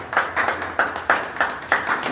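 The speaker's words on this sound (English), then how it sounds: "With a round of applause." Scattered audience clapping, a handful of distinct, evenly spaced claps rather than a full ovation, fairly close and moderately loud.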